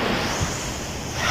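Sea waves wash onto the shore under calm conditions, a broad continuous hiss and surge with wind buffeting the microphone, steady and fairly loud with no talk.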